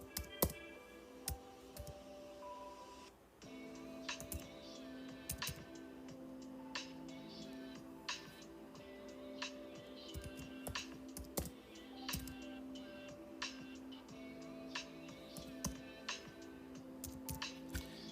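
Soft, irregular clicking of typing on a computer keyboard, quick bursts of keystrokes with brief pauses, fairly quiet and close, with no talking.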